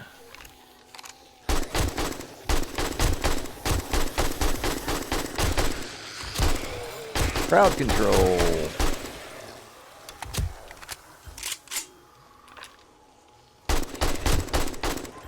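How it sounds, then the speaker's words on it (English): Turret gunfire in the survival game 7 Days to Die during a day 28 horde night, heard as repeated bursts of rapid thumping shots with short gaps, loud and close, with a voice talking at times in between. "The thumping I'm hearing is the turret."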